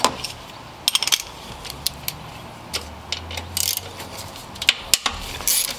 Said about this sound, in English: and go on ahead and loosen or remove that nut.